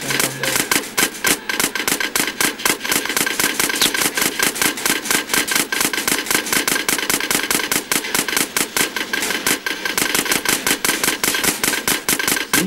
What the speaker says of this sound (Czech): slyším jenom střelby